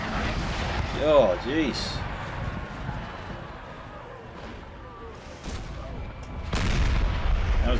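Distant artillery barrage in the Napoleonic-era game Napoleon Total War, with heavy booms rolling under a steady battlefield rumble and a louder burst near the end, while someone talks over it.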